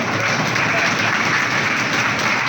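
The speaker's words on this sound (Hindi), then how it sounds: "ताली बजाओ जरा जोर से एक बार" An audience at a hotel seminar breaks into loud, sustained applause, a dense wash of many hands clapping together that continues steadily for the whole moment.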